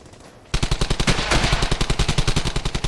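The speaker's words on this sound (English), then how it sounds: "I can hear and see Jasper's red tracers." Sustained machine gun fire in the video game Brothers in Arms: Hell's Highway, a rapid, loud burst of evenly spaced shots starting abruptly after a quiet moment and continuing without pause.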